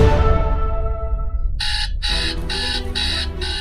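A morning alarm clock rings in rapid bursts of shrill electronic beeping, loud and close, cutting in after a fading sustained tone and repeating in a steady pulsing pattern.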